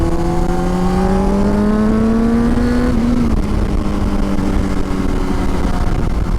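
A 2004 Honda CBR 600RR motorcycle on the road, its engine pitch rising steadily as it accelerates through a gear, then dropping at a shift, over constant loud wind rush.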